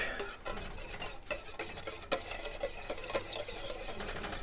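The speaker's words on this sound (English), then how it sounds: "Now we're going to go ahead and stir that with the whisk." A whisk stirs egg yolks with salt in a bowl for eggs Benedict hollandaise, a steady run of quick scraping, clicking strokes against the bowl, close and fairly quiet, with no talking.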